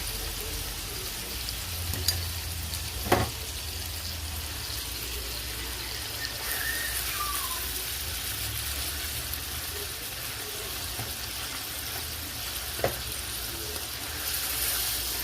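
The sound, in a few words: ground beef browning with spice mix in a pan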